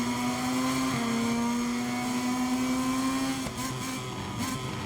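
Racing motorcycles in MotoGP 23 roar off the start under overcast skies, a loud steady engine drone with a rising harmonic tone that holds for several seconds, then a brief dip and resumed buzzing.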